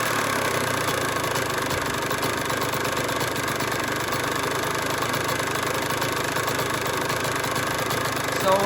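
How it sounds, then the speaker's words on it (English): A two-stroke dirt bike engine idles steadily after warming up, with a close, even buzzing drone and a fine rapid putter that stays constant throughout. "my idle is perfect"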